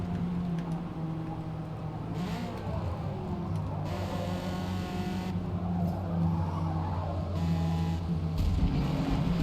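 Race car engines in the Forza Motorsport video game, a steady engine drone with rising and falling revs and occasional tire squeal, at moderate level.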